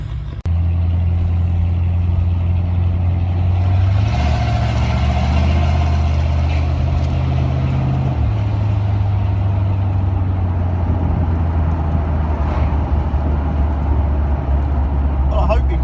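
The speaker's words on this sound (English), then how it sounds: "let's go for a drive then" A car engine rumbles low and steady as it drives along with the windows down, its pitch shifting with gear changes, and a voice talks over the drone.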